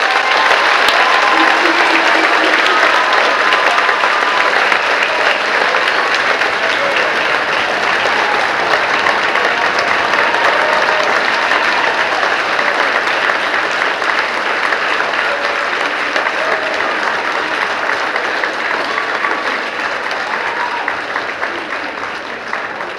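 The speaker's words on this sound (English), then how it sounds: "so can we give him a round of applause?" Sustained audience applause fills a hall at a spring choral festival in Brewton, a dense, loud, steady wash of clapping that holds for over twenty seconds before easing slightly at the end.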